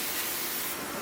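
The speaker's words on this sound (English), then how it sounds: "we're going to put them on the pan and we're going to spray them. Crisco butter spray, no calorie." A short, continuous hiss of Crisco no-calorie butter spray from a can aimed at food on a pan, close and steady for about a second.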